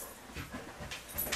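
A dog pants in quick, soft, rhythmic breaths, faint and close, with no talking.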